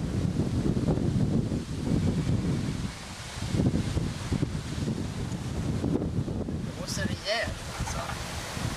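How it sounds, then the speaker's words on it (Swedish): Strong wind roaring and buffeting the microphone in a loud, steady rush, with some rustling and splashing water noise underneath. "Vinden har friskat i rejält."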